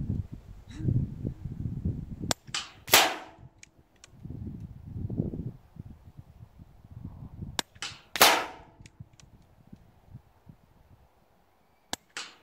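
A Daystate Redwolf .177 air rifle fires JSB and Bisley Magnum pellets in a pellet test, giving about five sharp, snappy cracks spaced irregularly, with soft low rumbles and quiet stretches between shots.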